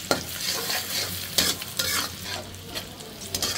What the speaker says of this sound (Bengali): নারকেল কুচি করাটা, বাদাম কুচি, কিশমিশ দিয়ে আমি একটু হালকা ভেজে নিব